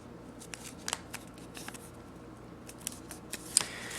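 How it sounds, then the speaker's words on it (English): Paper creased and folded for an F-18 paper airplane, with soft close rustles and crisp crease snaps scattered over a faint steady hum, no talking. "we're going to fold that back to where it matches up with the other side"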